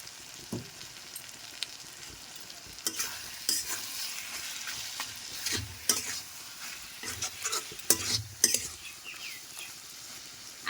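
Taro greens being stirred with ginger paste and sugar in a pan, a soft sizzle under repeated scraping and clattering strokes of a spatula, close and moderately quiet.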